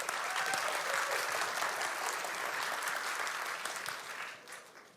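Sustained applause from a conference audience fills the space, dense and steady, then tapers off toward the end with no talking over it.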